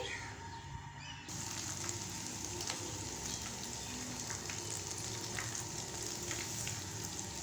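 Guava pakoras frying in hot oil, a steady dense sizzle that jumps louder after the first second as batter goes in, then crackles on evenly at low volume with no talk.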